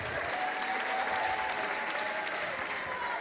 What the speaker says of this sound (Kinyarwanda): amashyi menshi cyane ku mubyeyi yaje